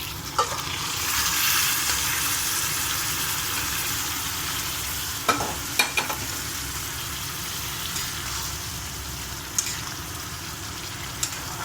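Ivy gourd frying in a pan with chana dal to follow, giving a steady close sizzle throughout, with a few sharp utensil clicks and stirring taps.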